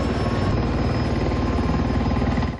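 A helicopter at an air show during a defence exhibition in Pakistan gives a steady, loud rotor and engine drone that runs through the whole stretch without a break.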